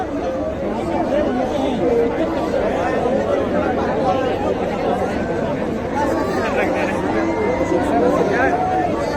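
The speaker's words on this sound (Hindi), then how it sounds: "काफ़ी भीड़ बहुत है" Large crowd at the Uttarakhand Mahakauthig fair in Noida, a steady close wash of overlapping chatter and babble from many voices filling the whole stretch without pause.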